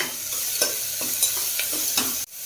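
Turkey berries sautéing in a pan with salt, a steady frying hiss under a regular run of spatula scrapes and stirs, ending abruptly.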